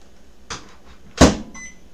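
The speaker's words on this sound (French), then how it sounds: "Donc, dans le micro-ondes." A microwave oven warming milk in a home kitchen gives a dull thump, then a louder clunk like its door, and a short electronic beep, all close and with no talk.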